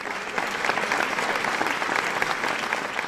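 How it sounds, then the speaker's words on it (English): An audience at a graduation ceremony gives sustained applause for the graduates, a dense, even wash of many hands clapping in a large hall, loud and continuous without a break. "Let us give the graduates a resounding applause."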